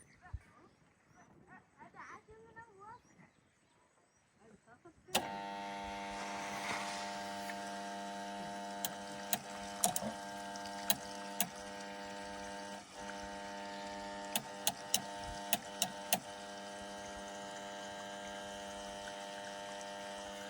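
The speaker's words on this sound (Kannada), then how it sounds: "ಚಾಲು ಆಯ್ತು ರೀ ಮೋಟ್ರ್" After a few quiet seconds with faint voices, an electric water pump motor starts abruptly and keeps running with a loud, steady mechanical hum, punctuated by occasional clicks.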